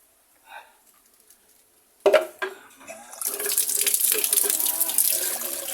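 Water gushes steadily over the parts of a SYM Radar 125 scooter during cleaning. A brief voice comes first, then a splash and clatter, and a loud continuous pour runs to the end.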